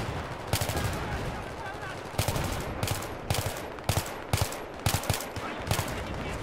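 Rapid bursts of gunfire in Battlefield 3, clustered machine-gun shots crackling in short irregular volleys, close and loud, with a voice talking faintly underneath.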